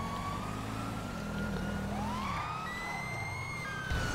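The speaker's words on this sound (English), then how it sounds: "Oh, my siren's all messed up. Listen to that." A video game police siren wails continuously with sliding, warbling pitches, sounding glitched, over a low rumbling engine drone, steady and fairly loud throughout, in Grand Theft Auto V.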